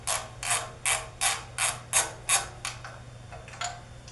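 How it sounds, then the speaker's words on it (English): A ratchet wrench clicks through repeated short strokes as it turns a bolt on the print head of a Ranar Elite 6 Color 4 Station E-6400 printer, about ten crisp bursts of ticking at a steady rhythm, the last few fainter, close and with no talk. "we'll probably attach it to the ratchet and then use our finger to get in there"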